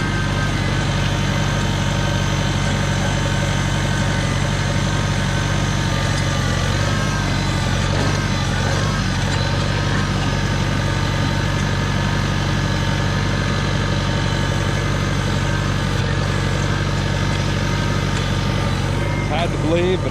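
A Cub tractor engine runs steadily while cultivating a rocky field, a loud, continuous low drone with mechanical vibration that holds even throughout, with voice-like sound mixed in.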